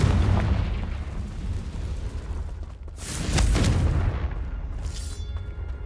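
Confringo spell explosions in Hogwarts Legacy, a loud rumbling boom that fades and then a second heavy blast bursts out midway, both rolling on with low roaring weight.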